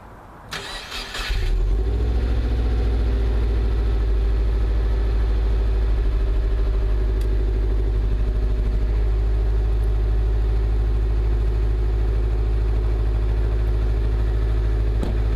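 A Subaru WRX engine cranks briefly, catches, and settles into a steady, deep, low-pitched idle that runs loud and close without interruption.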